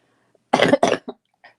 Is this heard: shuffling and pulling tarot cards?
no